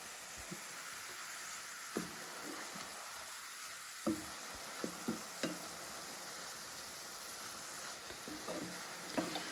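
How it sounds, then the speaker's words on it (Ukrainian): Steady sizzling of sliced champignon mushrooms frying in a little oil in a pan, with occasional soft clicks and scrapes of stirring, close and fairly quiet. "Тримаю шампіньйони на пательні до тих пір, поки випарується вся оця волога."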